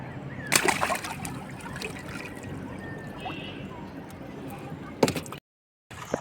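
Seawater splashes and sloshes along a shore at high tide, a steady wash of water with a few louder bursts of spray up close and a brief dropout near the end.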